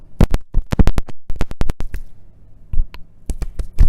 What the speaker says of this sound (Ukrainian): Затримуємо дихання і робимо простукування.